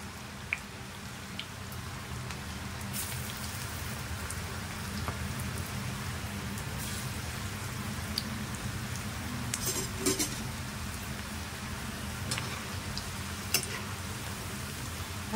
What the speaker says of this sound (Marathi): मीडियम फ्लेमवरती तळा भजी